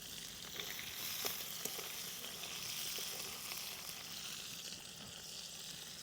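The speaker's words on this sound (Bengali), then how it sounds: "মাছটা কত সুন্দর ভাজা হচ্ছে।" Kuche fish, freshwater eel pieces, fry in a hot pan with oil, giving a steady, soft sizzle with a few crackling pops and no talking.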